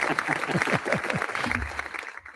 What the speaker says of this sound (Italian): Eccoli gli applausi, eccoli.